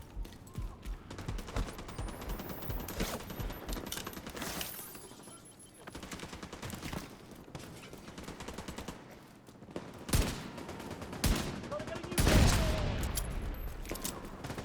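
Gunfire from the Regulus exotic pistol in the video game Division 2, repeated loud blasts and bursts of shots amid dense combat noise, with heavier explosive hits near the end.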